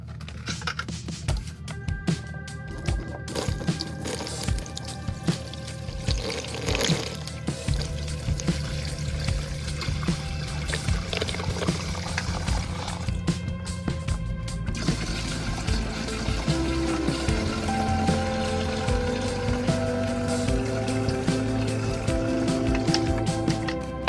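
Water pours from a blue bucket into a fish tank that holds a plate, a continuous splashing gush that sounds close and steady and settles into a fuller rushing flow near the end.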